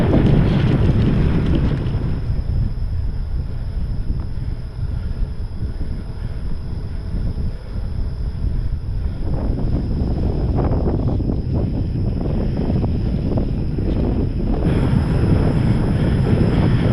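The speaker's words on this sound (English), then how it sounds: "I'm going into a pretty strong headwind." Strong headwind roars and buffets the microphone on a bicycle ride, a loud, continuous low rumble of wind noise that surges and eases throughout with no speech.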